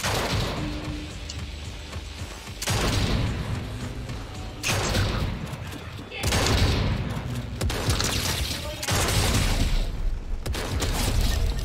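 Gunshots in Fortnite, loud repeated bursts of rapid fire in several blocks separated by brief pauses, close and punchy with some booming impacts and no talking.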